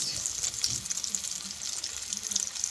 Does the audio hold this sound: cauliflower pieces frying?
yes